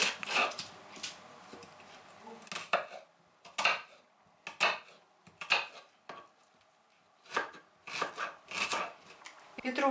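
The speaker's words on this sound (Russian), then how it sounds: "Лук нам надо мелко нарезать." A knife finely chopping onion on a cutting board, with quick bursts of close, sharp taps separated by short pauses and a faint clatter of kitchenware.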